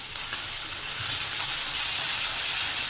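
Onion, ginger and garlic paste frying in a pan, a steady close sizzle and hiss running unbroken throughout with no talking.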